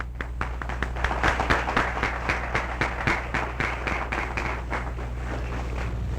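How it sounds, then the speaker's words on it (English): Audience applause at a Kenai area history conference, an uneven patter of claps over a steady low hum, fairly close and moderately loud, with no talk. "Let's give these people a nice round of applause."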